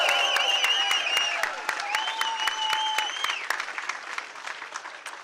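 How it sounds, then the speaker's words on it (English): Audience applause with cheering and whistles at a Pennsylvania Senate candidate's Get Out the Vote political rally, a dense crowd clapping loudly throughout that gradually thins toward the end. "Let's give them a round of applause."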